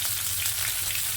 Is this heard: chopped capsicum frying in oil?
yes